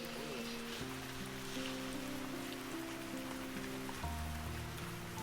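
Rain falling steadily in a Kerala forest at Periyar National Park, a dense even patter with low tonal music-like tones layered beneath.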